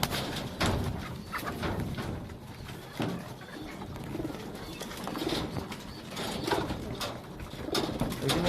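Pigeons at a pigeon loft coo repeatedly in soft, rolling calls, several birds overlapping at close range amid light rustling and scuffling.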